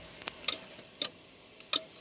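The thermostat inside a 2017 5000 BTU Kool King window air conditioner, out of its case, gives a few sharp, faint clicks at irregular intervals over a quiet background.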